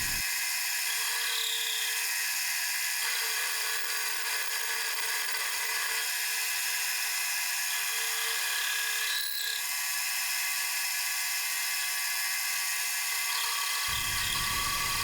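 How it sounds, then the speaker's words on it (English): A rotary tool fitted with a new tip grinds into a hex nut being shaped into a ring, giving a constant high, thin whine that shifts in pitch once or twice, close and unbroken. "Right here I change it to my new tip, and you can see how cleanly it's cutting and how smooth the ring is becoming."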